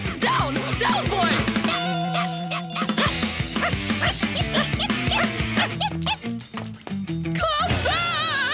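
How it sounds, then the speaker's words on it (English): Gnasher, the cartoon dog, barks and yaps in quick bursts amid a busy animated scene with loud music and clattering effects, the yips sharp and near. "Stop that! You horrible dog! Come back! Down! Down, boy!"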